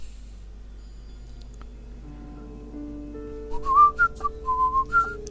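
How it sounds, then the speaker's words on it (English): A person whistles close into a microphone, a few short wavering tones near the end over a quiet low hum, alone with no talk. "I have no idea how the hell whistling sounds through this microphone"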